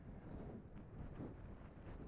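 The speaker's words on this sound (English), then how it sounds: "Super windy out here." Strong gusty wind buffets the microphone outdoors during wheelie practice on an RFZ 125 pit bike, a low continuous roar with no talk.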